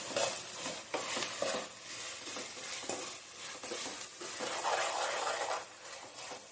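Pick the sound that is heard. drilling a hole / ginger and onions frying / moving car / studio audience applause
ginger and onions frying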